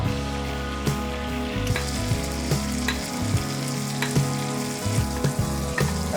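Lamb pieces with shallots and leeks sizzle loudly in melted butter, a dense, crackling fry with rhythmic scraping and spoon clinks as the fat is basted over the meat.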